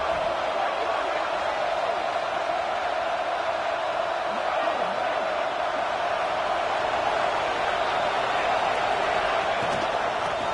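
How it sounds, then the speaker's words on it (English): A football stadium crowd roars during a college game, Iowa at Purdue, as a dense, continuous wash of cheering that holds steady and loud throughout, with a commentator speaking over it. "Listen to the crowd energy here in the early going."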